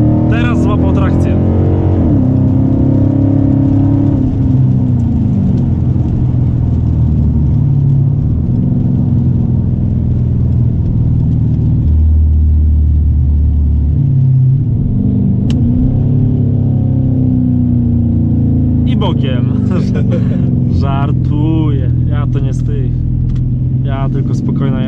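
A Dodge Challenger WideBody accelerates hard as its tyres gain traction on a wet road: a loud, sustained engine roar rises and shifts in pitch throughout, with voices talking over it near the start and again toward the end.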